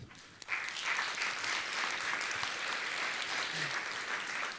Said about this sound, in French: un monsieur qui applaudit, beaucoup applaudit